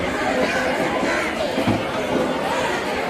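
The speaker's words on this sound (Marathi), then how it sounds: "इकडं गर्दी बघा मरणाची आहे" Dense crowd chatter fills a busy fish market, a steady close wash of many overlapping voices with no single voice standing out.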